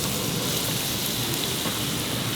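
Onions sauté in hot ghee with a steady, dense sizzle and crackle that holds at an even level throughout.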